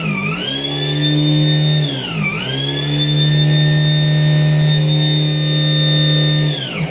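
Axiom test rig engine running at full throttle, a loud steady whining drone with strong tonal harmonics, briefly dipping in pitch and then climbing back to a sustained high whine.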